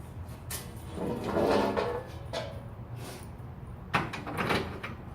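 Someone handles the front door of a Super Street Fighter 4 Arcade Edition cabinet under restoration and lifts it off, with a series of moderate, close knocks and scrapes and a sharper clunk near the end.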